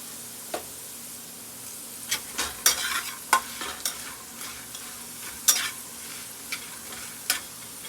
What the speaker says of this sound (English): I have salt and pepper, and then I want to add the onions now